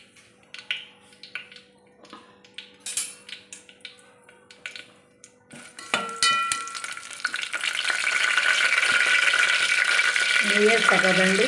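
Bay leaves hit hot ghee in a pan, starting with scattered taps and small crackles, then building into a loud, continuous sizzle and fry that fills the second half.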